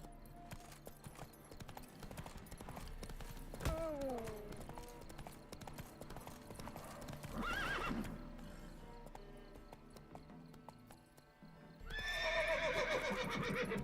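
Horse clip-clopping in The Witcher 3, with steady hoof beats throughout and several loud whinnies and neighs, one at the end, under game music and ambience.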